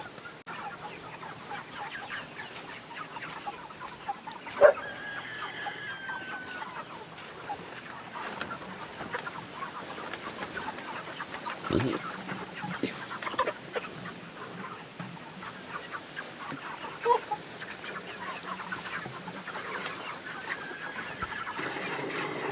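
A flock of meat chickens nearly nine weeks old clucking continuously, with overlapping low clucks and occasional louder calls over a steady barn hum.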